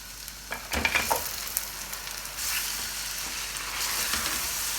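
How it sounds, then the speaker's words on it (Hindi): Mutton and onions fry in a pot for yakhni pulao, giving a soft, continuous sizzle. A few scraping stirs come near the start. "अब हमने अच्छे तरीके से मीट को अनियन के साथ फ्राई करना है"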